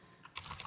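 Quiet keystrokes on a computer keyboard, a short quick run of several faint close taps with no talking.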